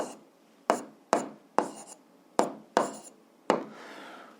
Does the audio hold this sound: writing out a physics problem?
yes